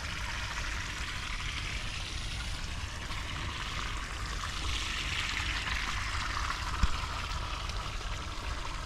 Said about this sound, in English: Or you can hear the running water